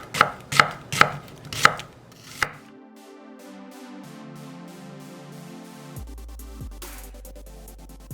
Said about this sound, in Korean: 부재료 양파 반개는 굵게 채 썰고